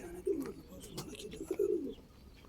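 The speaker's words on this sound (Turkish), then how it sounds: "Bu kuşların anayı babayı da göstereyim mi Burhan abi?" Soft pigeon cooing in a few throaty rolling phrases, close by, with brief pauses between calls.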